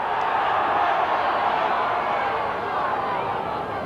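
Rugby league crowd at a Keighley v Dewsbury match, a steady broad roar of frustrated spectators filling the ground, heard under a commentator talking.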